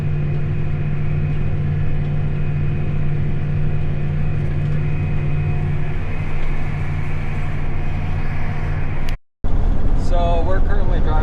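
Cabin rumble of a farm truck on a dusty spring road, a steady low drone and hum that drops out briefly near the end before rough bumping noise returns.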